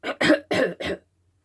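A voice imitates a cough: four short, harsh hacking bursts in quick succession, close and fairly loud, then silence.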